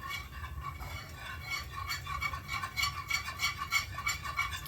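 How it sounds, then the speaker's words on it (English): A spoon stirring a thickening sauce in a pot makes a close, continuous run of soft scraping strokes in a quick, uneven rhythm, quiet and without talk. "Just gonna keep stirring it because I don't want it to burn"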